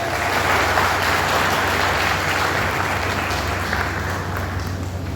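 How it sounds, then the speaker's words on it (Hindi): Audience clapping at a ceremony in India where officials are honored with bouquets, a dense steady applause from a crowd filling the room throughout. "तालियां बजाएं।"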